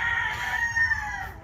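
Rooster housed together with breeding hens lets out one drawn-out crow, loud and close, with no one talking.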